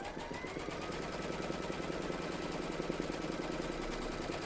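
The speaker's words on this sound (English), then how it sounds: "stitch round number 1, and that's going to give you your placement outline for your batting" An embroidery machine stitches a placement outline for batting on an in-the-hoop towel topper, its needle chattering in a fast, even, loud rhythm that runs without a break and with no voices.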